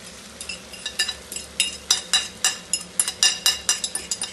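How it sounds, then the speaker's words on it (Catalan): Beaten eggs go into a frying pan with potatoes and peppers, followed by a steady run of sharp clinks and scrapes as a utensil stirs against the pan in a quick, even rhythm over a soft sizzle. "Ara ja anem a tirar els ous."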